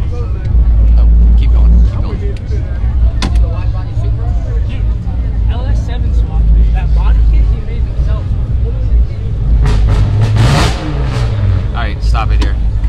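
Lamborghini Urus pulling up at a Nashville Cars and Coffee meet, its engine rumbling steadily with a louder rising rev near the end, set against crowd chatter and other vehicles.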